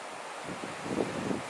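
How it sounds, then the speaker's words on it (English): Wind blows in a steady rushing roar across the microphone at an exposed wild camp in the Brecon Beacons, with gusty swells near the end and nothing else heard. "It's windy as hell"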